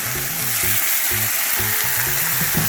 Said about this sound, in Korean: 면은 살짝 익히고 면수와 함께 팬에 넣어 볶아주세요